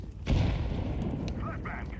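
A grenade explodes in the video game Counter-Strike with one sudden low boom early on, followed by a rumbling decay. Faint voices can be heard in the background.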